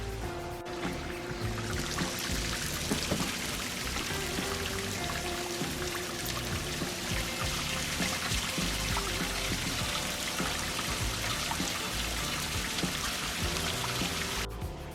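Water rushes continuously as a pond pump drains a 220-gallon cichlid aquarium during a water change, a dense, even splashing and trickling roar that runs unbroken for the whole stretch with no talk.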